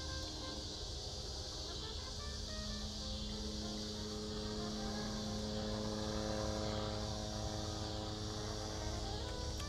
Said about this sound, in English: Police helicopters flying around the last few minutes.